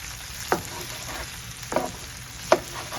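Sausage being ground into small pieces with a spatula, cooking for a stuffed and smoked portobello mushroom filling: a steady low sizzle with three distinct scraping stirs spaced about a second apart.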